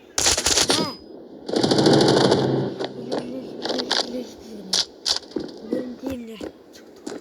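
Rapid automatic gunfire from the mobile shooter game Standoff 2 comes in two loud bursts early on, followed by sporadic shots and game sounds while a person talks.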